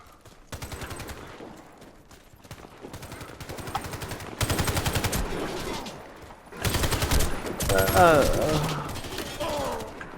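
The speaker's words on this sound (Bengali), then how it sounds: "সিরিয়াসলি আমি পায়ে গুলি করছি।" Gunfire in a team deathmatch shooter video game on a hangar map, loud bursts of automatic fire repeating in several rapid volleys with reload clatter, while players talk excitedly over it.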